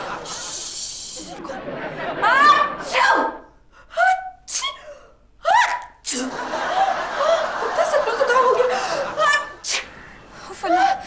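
A woman sneezes amid a comedic domestic scene, with a sharp sneeze followed by chuckles, gasps and laughter from people nearby, and lively chatter around it.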